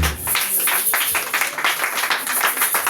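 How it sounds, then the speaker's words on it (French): A church congregation applauds together in a steady, dense wash of clapping that holds loud and even from start to finish, with some voices mixed into the crowd noise. "On acclame pour la gloire de Dieu."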